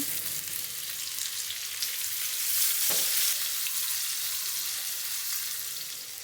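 Chopped onions frying in ghee with cardamom, cinnamon and whole cumin in a pan, a steady close sizzle with a brief stir or clink near the middle, no talking.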